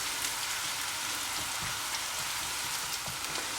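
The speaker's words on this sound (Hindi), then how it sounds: "3 से 4 मिनट के लिए इसे भी यहाँ पर जो है हम फ्राई करेंगे, अदरक लहसुन और प्याज को" Onion, ginger and garlic sizzle steadily in a hot pan for a Schezwan sauce, a continuous crackling hiss with small pops throughout, close by and without talk.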